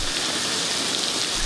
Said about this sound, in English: The heavy downpour in the nation's capital in recent days has seen floods on the roads